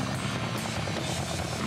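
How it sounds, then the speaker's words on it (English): A small propeller plane drones steadily in a Sonic video game, a continuous buzzing engine hum at even loudness with no talking. "How are you able to fit on that small ass plane, Sonic?"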